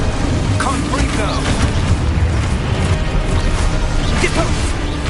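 A Confringo explosive spell goes off in Hogwarts Legacy, a dense rumbling blast mixed with crashing combat effects that fill the whole stretch at a steady, loud level.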